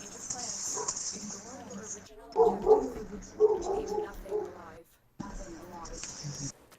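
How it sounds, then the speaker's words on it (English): A dog barks somewhere off from the microphone, several short barks mixed under ongoing conversation between people. "my dog's barking at someone"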